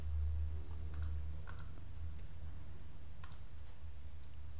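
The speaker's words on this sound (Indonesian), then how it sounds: "Perintah ini akan saya copy lalu akan saya paste di bawahnya." Computer keyboard and mouse clicks while copying and pasting code in R, with a handful of sharp, close taps scattered irregularly over a low steady hum.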